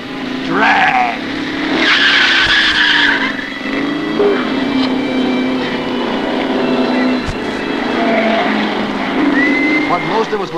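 1960s drag racing cars at Atco, loud roaring engines with tire squeals and screeching skids sweeping past, mixed with crowd noise and voices throughout.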